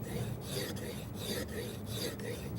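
Chisel edge stroked back and forth on the 1200 grit side of a sharpening stone, a close, soft, even rasping scrape in a steady rhythm of roughly five strokes, with no voices.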